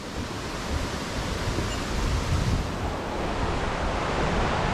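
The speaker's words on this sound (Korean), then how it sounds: "아이게 바람 부는 거 보세요" Wind blows in Sogeumgang valley beside a waterfall, a loud continuous rushing wash over the microphone, with steady falling water likely blended into the roar.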